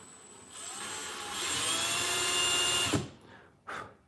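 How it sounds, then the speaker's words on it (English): A power drill with a 1/16 inch bit bores into a new guitar neck, whining steadily with rising intensity for about three seconds, then cutting off sharply, followed by a brief second burst of whirring. "We're just going to do this with a 16th inch drill bit."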